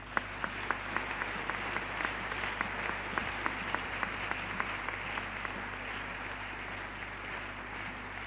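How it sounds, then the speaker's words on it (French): Congregation applause for a pastor during a farewell worship service at a sanctuary dedication; steady, sustained clapping with individual claps standing out, moderately loud over a constant background hum. "j'aimerais que vous donniez un tonneau d'applaudissement pour le pasteur Richard"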